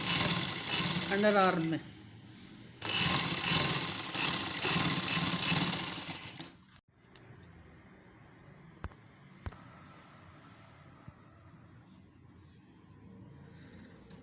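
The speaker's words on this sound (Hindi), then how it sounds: "ये डबल सिलाई लग रही है" Sewing machine stitching a double seam on a flared shirt in two loud, fast bursts of steady whirring, followed by quieter handling and faint clicks, with someone speaking briefly during the stitching.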